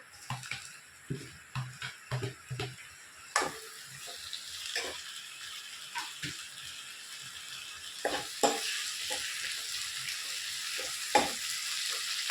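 Tomatoes go into browned onions in a pan for mushroom curry, with a run of scraping stirs at the start giving way to a steady, fairly quiet sizzle and occasional spoon knocks.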